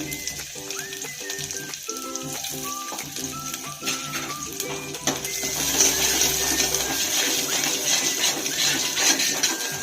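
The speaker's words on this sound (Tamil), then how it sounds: "நல்லா சாம்பார் வெங்காயம் வதக்கட்டும்" Sambar onions sauté in hot oil with cumin, a soft sizzle with scraping and stirring clatter under background music, and the frying grows louder and more hissing in the second half.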